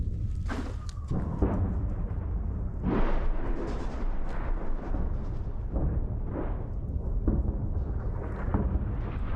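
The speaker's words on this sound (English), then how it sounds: "We hear the artillery rounds flying overhead, exploding in different areas of the coke plant" Artillery rounds whistling overhead and exploding at a coke plant, a series of distant booming blasts and rumbles with a faint whine of an incoming shell early on.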